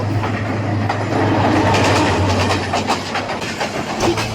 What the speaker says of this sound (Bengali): ঢাকা থেকে সিলেটগামী আন্তনগর জয়ন্তিকা এক্সপ্রেস ট্রেন দ্রুত এগিয়ে আসছিল